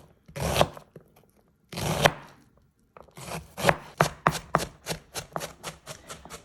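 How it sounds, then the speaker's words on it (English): A knife strikes a cutting board: two separate chops, a pause, then a quick steady run of about a dozen sharp cuts, close and clear. "Next thing I'm doing is chopping up my onion and a nice fine chop on this."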